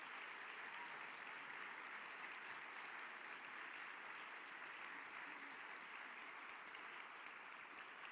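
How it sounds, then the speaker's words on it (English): Graduates at a 2014 Augsburg College commencement ceremony applaud in a large hall, a dense, steady wash of clapping that holds at an even level throughout. "Graduates, I invite you to take a moment to thank, with your applause, all those faculty, friends, and family members who have supported you"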